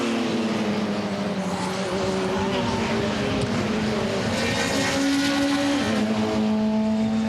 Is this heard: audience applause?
no